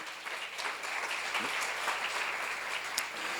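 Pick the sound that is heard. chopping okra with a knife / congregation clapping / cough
congregation clapping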